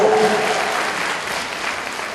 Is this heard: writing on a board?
no